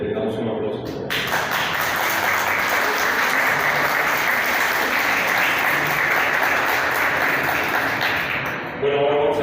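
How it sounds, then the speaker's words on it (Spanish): An audience applauds at a Latin American road safety forum in Mexico City, a sustained, loud wash of clapping that starts abruptly and fades near the end, with a voice heard briefly at both edges. "Muchísimas gracias, le damos un aplauso."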